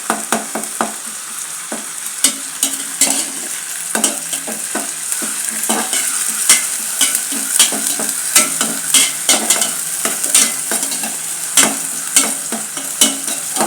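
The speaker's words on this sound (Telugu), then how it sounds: "ఇప్పుడు అల్లం వెల్లుల్లి పేస్ట్ కూడా వేసేసాను." Ginger garlic paste frying in a pan, a continuous bright sizzle broken by repeated sharp scrapes and clinks of a spoon stirring, close and fairly loud with no talking.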